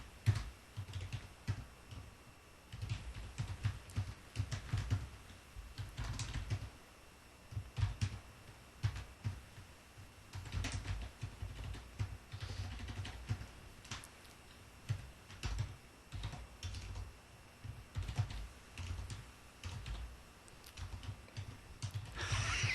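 Someone types on a split computer keyboard, a quiet, irregular run of light key clicks and clatter in bursts with short pauses, close but faint.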